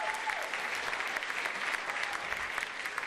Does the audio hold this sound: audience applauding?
yes